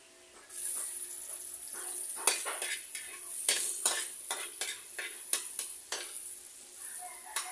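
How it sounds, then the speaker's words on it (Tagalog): Garlic and onion sauté in a hot pan while cooking banana core, with a steady close sizzle broken by repeated scraping stirs and utensil clinks against the pan. "Pag-isa na natin yung bawang at sibuyas."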